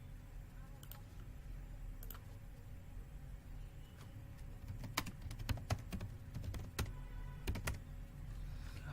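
Keys tapped on a computer keyboard while entering Kali Linux terminal commands, scattered clicks coming in short bursts that thicken toward the end, close by over a steady low background hum.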